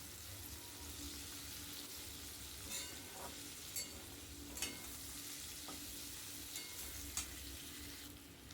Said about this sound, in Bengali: পেঁয়াজটা ভালো করে নেড়ে চেড়ে সবজিটার সাথে মিক্স করে নেব